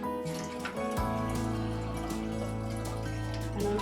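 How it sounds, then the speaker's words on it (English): Water runs steadily from a tap into a medium-sized cooking pot for steaming potatoes, a continuous close splashing flow that deepens in tone as the pot fills, with no voices. "I add some water"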